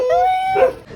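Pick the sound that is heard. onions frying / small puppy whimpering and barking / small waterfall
small puppy whimpering and barking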